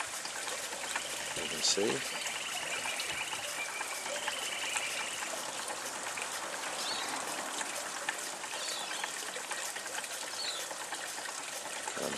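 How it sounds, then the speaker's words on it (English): A Hayward Tyler hot air pumping engine, fitted with a tap on its outlet, pumps water in a steady trickling and gushing stream that continues for the whole stretch beneath a soft mechanical hum, with a brief spoken word. "I had to put a tap on the outlet to restrict the flow of water"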